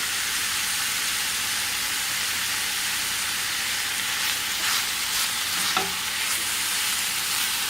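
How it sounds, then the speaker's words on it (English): Onions and jackfruit are stir-fried in a pan over medium heat, giving a steady, loud hiss of sizzling with a few faint scrapes of a stirring utensil, continuous with no talk. "You're going to want to incorporate the onions with the jackfruit."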